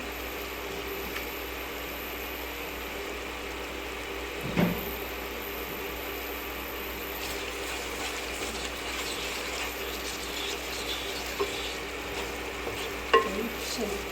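Steady low sizzle of turmeric and salt frying in oil in a pan for an aloo chicken curry, with occasional stirring scrapes and a couple of sharper clinks, no voices.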